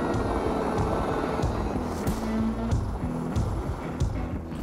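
A helicopter sets down in the Chugach mountains, its engine and rotor producing a continuous loud low rumble with a steady rhythmic beat throughout.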